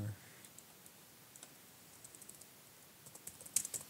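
Quiet, scattered clicks of fingers typing on a computer keyboard to enter an award name in the baseball management game Out of the Park Baseball 18; the taps are light and irregular, with a small burst of quicker keystrokes near the end.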